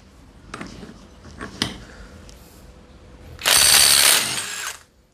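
A WORK WU132 12-volt impact driver set to speed 3 loosens a bolt. It gives two short sharp bursts, then a loud, sustained rattling hammering for about a second before stopping. The tool is close and no one talks.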